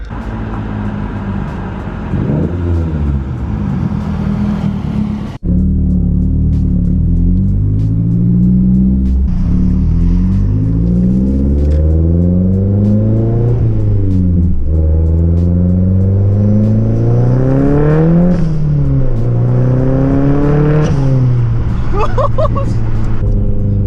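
A loud 300 WHP Mazdaspeed 3 revs hard, its engine note rising and falling in repeated sweeps over a deep, continuous rumble; a brief voice comes through early on.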